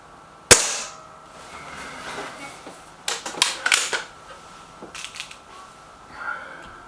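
One sharp, close air rifle shot from a Gamo Whisper Sting or SMK XS36 cracks out alone, followed by a quick run of metallic clicks and rattles, then a faint shuffle.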